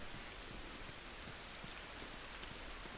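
Heavy rain pours down steadily in The Last of Us, a dense, even hiss of rainfall across the whole stretch with no pauses and no voices.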